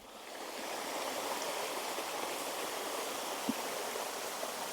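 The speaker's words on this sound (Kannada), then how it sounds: "ಇಲ್ಲಿ ನೀರು ಹರಿತಾ ಇದೆ" A stream flows steadily near a hidden waterfall in the Ankola hills, a constant broadband rush of water with no voices, holding even and unbroken throughout.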